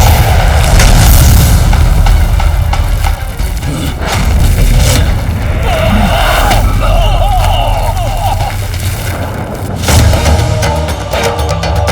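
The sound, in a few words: explosion sound effect in a TV show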